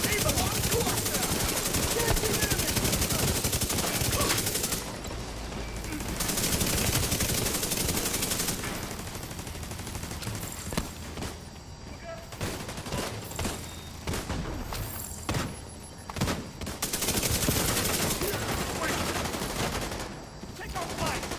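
Sustained automatic gunfire rattles through a firefight in The Division 2, dense bursts at first and then sparser shots with gaps, loud and close, with occasional voices over it.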